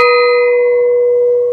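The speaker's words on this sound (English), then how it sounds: "The sound of a gong is just a word that is directing to," A gong struck once, ringing loud and close with a bright sustained shimmer that holds steady and barely fades, alone with no talk.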